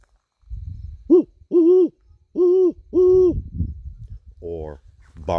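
A person imitates a great horned owl with four deep, resonant hoots in a short rhythmic series, clear and close, with some low background rumble.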